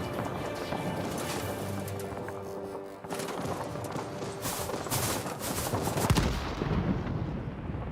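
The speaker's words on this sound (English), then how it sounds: "These are the German 20mm cannons." German 20mm aircraft cannons fire in a combat flight video game, dense rapid bursts of gunfire over continuous engine drone, loud and sustained with a brief lull partway through.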